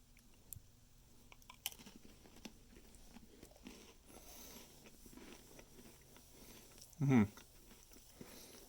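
Quiet, soft chewing of unsalted saltine-style crackers topped with lentil stew from a 2013 Humanitarian Daily Ration, with small crunches through the clip and one louder, close bite-and-chew burst near the end.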